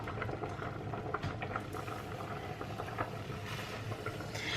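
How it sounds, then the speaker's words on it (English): Food cooking in a home kitchen pan gives a steady, moderately loud bubbling sizzle with light patter throughout, no talk. "I'm just going to let that slightly cook on each side"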